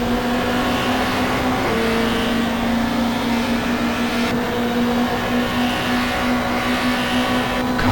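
A 1995 Australian Super Touring race car in GTR2 at Symmons Plains drops to first gear for the hairpin, its engine a loud, continuous drone that shifts pitch once, then holds steady.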